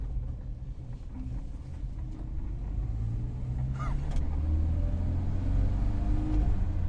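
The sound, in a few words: Volvo Amazon classic car engine accelerating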